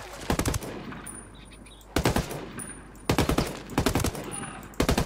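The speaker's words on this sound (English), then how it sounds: "Let's hear these gun sounds." Automatic gunfire in Ghost Recon Wildlands comes in loud, rapid bursts, four or five separate strings of shots with brief pauses between them, close and punchy.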